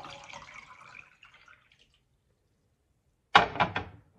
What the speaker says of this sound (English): And then I'll pour the second 12 ounces in. I'll pour it into the mug.